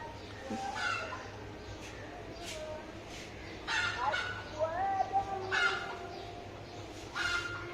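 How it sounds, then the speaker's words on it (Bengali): A hen near a rented home's kitchen calls repeatedly and loudly, a run of harsh squawking clucks in bursts over a steady low background hum. "মুরগিটা আজকে এত ডাকছে কেন?"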